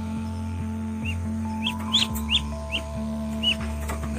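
Male Muscovy duck giving its quiet, hoarse, breathy calls, several short raspy notes spread over a few seconds, with steady low farmyard hum and a faint tonal drone behind.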